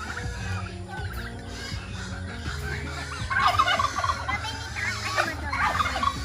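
Turkeys gobble in a mixed flock with chickens on a Cagayan farm, several birds calling in overlapping bursts that swell louder midway, close to the listener with no talk.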